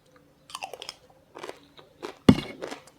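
Crunchy bites and chewing of spicy som tam papaya salad with grilled fish, heard up close in several short bursts ending in a sharp crunch.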